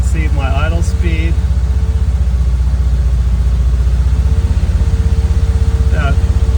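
A car engine idles after a cold startup, a loud, close, steady low rumble with an even pulsing beat. Someone talks briefly over it at the start and again near the end.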